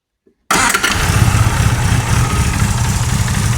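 A Classic Mini 998 engine fitted with a lumpy cam fires up abruptly and runs loud and close, with an uneven, loping idle that sounds almost like a misfire.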